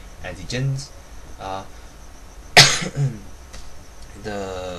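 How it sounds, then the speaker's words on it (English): A person with a bad cough lets out a sharp, loud cough mid-lecture, with throat clearing around it, between stretches of close spoken explanation about immunology. "Oh god, sorry, I've got a bad cough."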